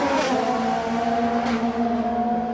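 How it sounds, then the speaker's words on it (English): Formula 1 race cars at the 2017 Australian Grand Prix scream past in close pursuit, their loud, sustained engine tones holding high pitch with brief surges as they jostle for position. "Ocon slipstreamed past Alonso and Hülkenberg attempted to take both"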